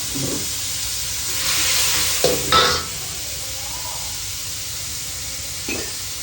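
Spicy holy-basil pasta with shrimp and squid stir-fries in a hot pan, a loud, constant sizzle and hiss broken by a couple of bursts of scraping and tossing midway and a short one near the end.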